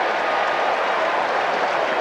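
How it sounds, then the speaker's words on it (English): A large baseball crowd at Game 6 of the 1986 World Series, Red Sox at Mets, gives a dense, steady roar of massed voices, distant and continuous. "A portion of the crowd is doing that sing-song Dewey for Dwight"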